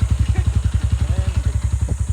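Motorcycle engine running on a ride down to Cavinti Falls, close and loud, with a fast, even thumping idle pulse that keeps a steady rhythm throughout.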